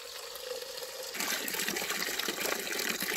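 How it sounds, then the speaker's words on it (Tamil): Water pours and splashes as ponnanganni keerai spinach is washed: a quiet trickle at first, then a louder, steady gush of running water that continues to the end. "இதை நம்ம தண்ணியில் நல்லா கழுவி எடுத்துக்கலாம்."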